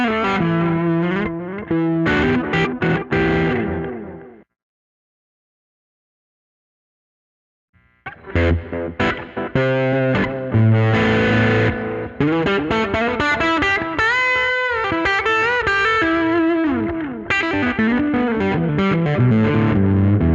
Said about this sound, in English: I'll also add a little bit of reverb and delay to make it sit nicely in the mix